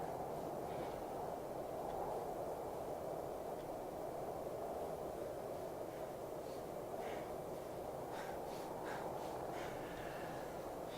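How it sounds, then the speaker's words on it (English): In the video game Kholat, a long train rolls past with a continuous broad rushing rumble that holds steady throughout, with faint rhythmic clatter rising toward the end. "This is one long train."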